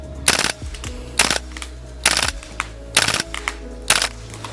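A WE XM177 gas blowback airsoft rifle fires five sharp, loud bursts of rapid clacking shots at near-regular intervals, each followed by a brief mechanical rattle.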